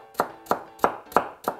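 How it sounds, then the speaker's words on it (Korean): A kitchen knife julienning carrots on a cutting board: five crisp, evenly spaced chops, close and moderately loud, with no talk. "채 썰어 주세요."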